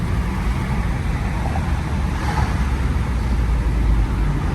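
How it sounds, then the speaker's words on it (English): Steady roar of road traffic heard from inside a moving vehicle, with a big bus running alongside. Low rumble and tire noise stay even throughout, with no talk. "This guy's driving this big ass bus trying to cut me off."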